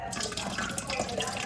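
A little water is poured into a pot of rice, a steady, close trickle that lasts about a second and a half with no talk over it.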